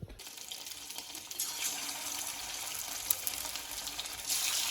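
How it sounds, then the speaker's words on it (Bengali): Chicken pieces frying in a pan, giving a steady broad hiss of sizzling oil that holds close and even throughout and swells slightly near the end, with no voices. "এদিকে চিকেনটা ভাজা হচ্ছে"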